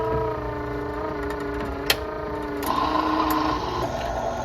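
Whirring, humming mechanism of an open AMI C jukebox as it selects a record and its arm moves to pick it up. A steady motor drone runs throughout, with a soft click and a shift in pitch partway through, close and noisy.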